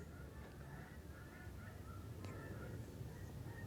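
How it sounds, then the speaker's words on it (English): Geese honking overhead during migration above school grounds, several faint calls scattered across a steady outdoor background, distant and low. "Those are geese in migration."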